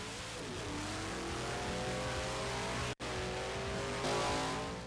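A fast drag race car accelerating hard down a drag strip capable of over 200 mph in 660 feet, its loud engine roaring continuously with rising pitch, a brief cut near the middle, no talk.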